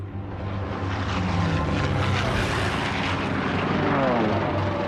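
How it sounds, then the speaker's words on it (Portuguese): Japanese warplanes roar overhead during a World War II attack, a continuous loud droning engine rumble with sweeping pitch shifts, dense and unbroken throughout. "Os aviões estavam metralhando e jogando bombas."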